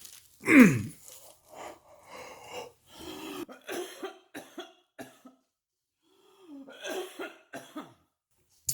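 One loud, close cough, followed by scattered throat-clearing and breathy coughs that trail off into quiet.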